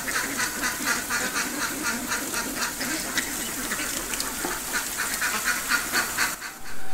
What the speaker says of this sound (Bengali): দর্শক, এই হাঁসটা দেখুন